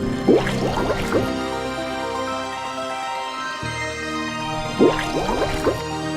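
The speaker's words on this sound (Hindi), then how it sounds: "वरुण देव ने पानी में डुबकी लगाई।" Cartoon sound effect of someone diving into water: two bursts of splashing, dripping and gurgling, each a quick cluster of liquid plops, separated by a few seconds of quieter background.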